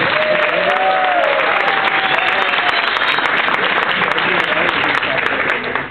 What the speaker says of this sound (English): Big round of applause. Come on.